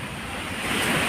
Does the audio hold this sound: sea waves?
yes